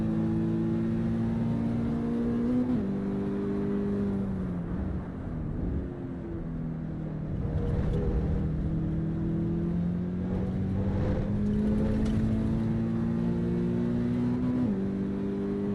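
A racing car engine in Assetto Corsa Evo drones continuously at high revs, pitch rising through each gear then dropping at shifts, with brief throttle lifts mid-run; a steady, fairly loud in-game engine note without talk.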